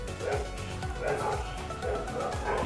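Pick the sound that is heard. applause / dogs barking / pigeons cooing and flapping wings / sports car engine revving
dogs barking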